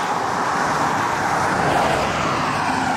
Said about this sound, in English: So many cars, annoying.